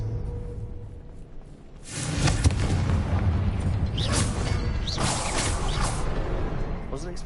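A loud, broad blast bursts in around two seconds from the Confringo spell in Hogwarts Legacy on PS5, then leaves a sustained roaring, crackling rumble with further flaring bursts, following a quieter stretch.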